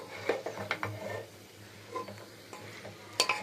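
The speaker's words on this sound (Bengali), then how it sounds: "চিকেনটা দিয়ে ভালো করে নাড়াচাড়া করে নেব।" Chicken stirred in a soup pot, giving soft scattered scrapes and clinks of a utensil against the pot at a quiet level, with a few sharper knocks and no voices.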